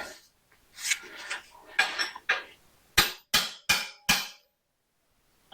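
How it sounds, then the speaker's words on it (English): Hammer blows splitting a VW engine piston in half during an engine teardown: a series of sharp metallic strikes, first rapid clustered taps, then four loud, evenly spaced heavy blows ringing close to the listener. "All right, we're gonna split the piston."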